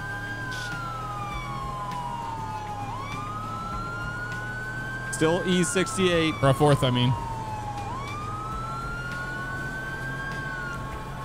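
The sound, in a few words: police car siren in the video game FivePD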